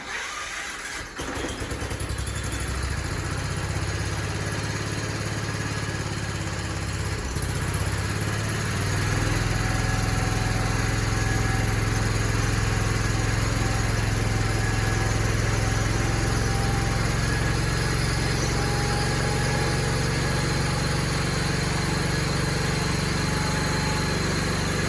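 An Allis Chalmers 910 garden tractor's engine starts up and runs at a loud, steady drone nearby, rising slightly in pitch after several seconds and then holding constant without talk.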